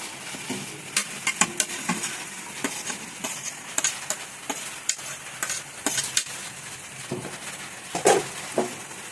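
Onions and garlic sizzle in a pan while a utensil stirs and scrapes them in irregular bursts, the clatter fairly close and moderately loud over a soft frying hiss.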